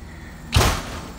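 A house's front door swings open with a single solid thud partway through, followed by a lingering low rumble of the room, nearby and fairly loud.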